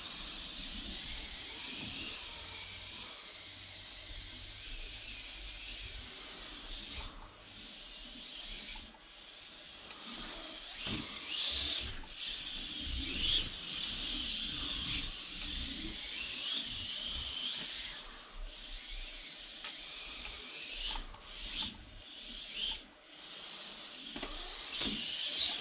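A Wltoys 244016 Hulk RC car runs a track, its small electric motor whining with a high hiss that rises and dips as it speeds up and slows, fairly faint throughout.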